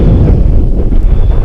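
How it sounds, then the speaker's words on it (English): Strong, steady wind buffeting the microphone over a frozen lake, a loud low rumbling roar with no other distinct sounds. "it's pretty windy out again today"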